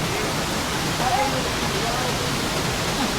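Strong rushing water pours at Pinlac Falls, a waterfall in Infanta, Quezon, giving a dense, steady roar that fills the whole stretch, with a faint voice barely rising above it.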